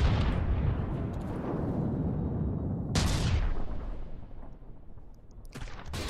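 Mortar fire in a video game battle, a dense, rumbling wash of blasts with a sharp explosive burst in the middle and another near the end.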